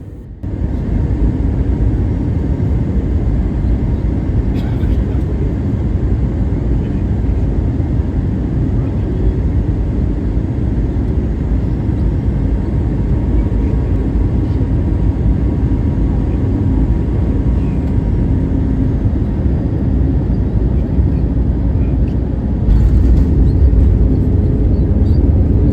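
A Lufthansa Airbus A321-200 landing at Frankfurt Airport at night, heard from inside the cabin as a loud, steady roar of jet engines and airflow that continues without a break, with a brief louder rumble near the end.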